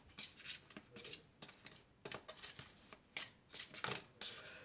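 Tarot cards are shuffled by hand in quick, crisp riffling bursts with short pauses between them, close and fairly loud.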